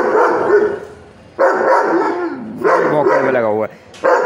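A pet dog barks and yelps repeatedly nearby, loud bursts separated by brief pauses, one rising whimpering cry among them, with no speech over it.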